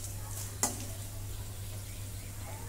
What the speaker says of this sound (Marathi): मनुके जरा तळून घेते